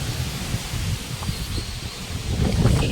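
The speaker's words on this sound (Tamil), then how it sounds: "ரொம்ப காற்று பயங்கரமாக அடிக்கிறதுனால" Strong wind gusts through a custard apple tree, a steady low roar with leafy rustling that swells slightly toward the end, close to the microphone and with no talking.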